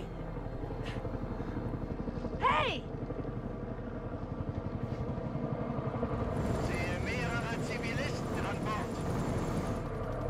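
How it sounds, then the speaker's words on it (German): A helicopter arrives in the horror video game The Dark Pictures, its rotor thumping steadily throughout under game sounds, with a brief sharp whine near the start and voices now and then. "Da kommt der Hubschrauber."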